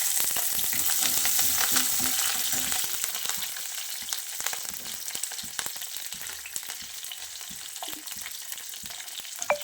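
Curry leaves tempering in hot oil in a pan, a continuous crackling sizzle with sharp pops and spits, loud and close at first and gradually settling, with occasional stirring clicks.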